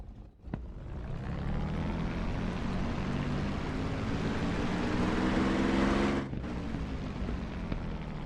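A P-51D Mustang's piston engine idles at about 1,500 RPM in the Digital Combat Simulator flight game, a steady loud droning rumble with a low throb that holds throughout and briefly dips near the end.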